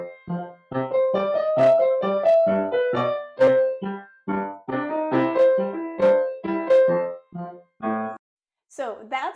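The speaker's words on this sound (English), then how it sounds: "So that's just a little bit of the entertainer for beginners, levels 1 and 2, and intermediate." Scott Joplin's The Entertainer plays on piano with both hands, in bright, bouncy ragtime notes with a steady left-hand pulse under the melody, ending with a short pause and a final chord.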